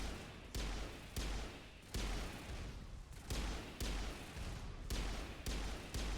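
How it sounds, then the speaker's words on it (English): A high-caliber gun firing in a video game, about ten loud, booming shots in a steady rhythm, each with a rumbling decay before the next. "It is a high caliber gun"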